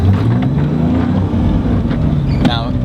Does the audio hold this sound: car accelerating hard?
yes